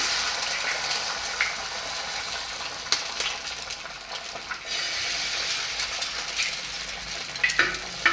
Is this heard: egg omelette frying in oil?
yes